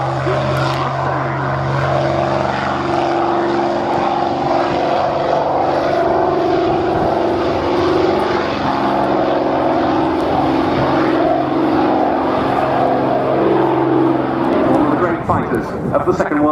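A North American P-51D Mustang propeller fighter makes its takeoff roll at a Scampton airshow. Its engine gives a loud, steady, throbbing drone throughout, with a commentator talking over a public-address system.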